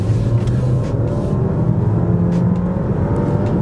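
2024 Dodge Hornet R/T with a 6-speed automatic accelerating hard, the engine drone rising steadily from inside the cabin with smooth gear changes, no talking.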